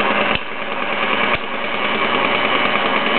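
A Bowman E101 model steam engine drives twin Mamod workshops, giving a steady, close mechanical whir with a fast, even rhythm and two brief clicks or knocks.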